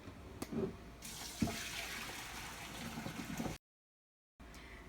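Water from half-cooked rice pours and splashes as it is drained for chicken dum biryani, a steady running gush with a couple of knocks, cut off by a short silence before resuming faintly.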